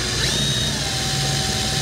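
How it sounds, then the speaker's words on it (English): A power drill fitted with a 1/4 inch bit spins the drive shaft of a legacy actuator, giving a steady, close, continuous whir at an even level throughout with no pauses. "take your 1/4 inch bit and you're gonna put it on the end of your drive shaft and slowly pull the trigger"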